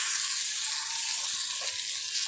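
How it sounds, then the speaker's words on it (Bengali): Spices and a little milk sautéing in a pan over low-to-medium heat for a potol (pointed gourd) dish with paneer, giving a steady, moderate hiss with faint stirring scrapes throughout, no talking. "ভালো করে মিশিয়ে নিচ্ছি, সাঁতলে নিচ্ছি মশলাটার সঙ্গে"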